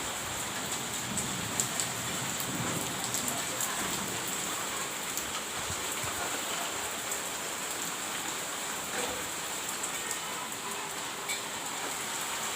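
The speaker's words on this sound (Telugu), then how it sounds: "మా ఊర్లో అయితే ఫుల్గా పడుతూ ఉంది" Heavy rain pours steadily over a village with trees, a dense, unbroken hiss of drops close by that holds at an even loudness from start to finish, with no voices.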